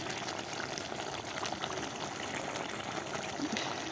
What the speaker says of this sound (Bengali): আলু দিয়ে পানি দিয়ে দিব